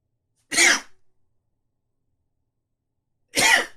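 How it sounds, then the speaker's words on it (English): Two short, sharp sneeze-like bursts, one near the start and one about three seconds later, each breathy and explosive, separated by silence, close to the listener. "I need to sneeze."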